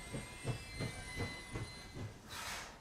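A train in the Frostpunk video game rolls along with steady clickety-clack wheel beats about every third of a second under a constant hiss and faint tonal whine, ending in a breathy burst of steam.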